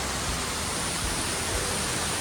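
Waterfalls pour inside Krem Chympe cave in Meghalaya, a dense, loud, unbroken roar of falling water filling the space, with no voices.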